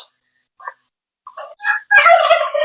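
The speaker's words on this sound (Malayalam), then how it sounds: "കോഴികൾക്കൊക്കെ കുറച്ച് തിന്നാൻ കൊടുക്കണം" Chickens being fed at home, a few short clucks and squawks spaced apart, then a louder burst of overlapping calls with a couple of sharp knocks, close by.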